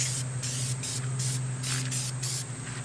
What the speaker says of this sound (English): just spray, generously on the surface